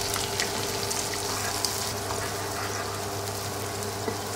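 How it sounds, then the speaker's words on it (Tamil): Green chillies fry gently in hot oil for wheat rava upma, a soft, steady sizzle with faint crackles and a low kitchen hum throughout. "பச்சை மிளகாய் ஸ்லைட்டாக ஃப்ரை ஆனோன்னே நாம் இதில் வெங்காயத்தை சேர்த்துக்கலாம்."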